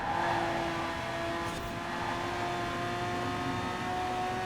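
A Lamborghini Diablo GTR races a lap in Forza Horizon 4, its engine holding a steady, loud, high drone at sustained speed, alone with no talk.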